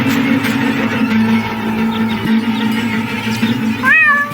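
A cat in the video game Deponia meows with a drawn-out, wavering wail over a steady background hum, ending in a rising, quavering cry.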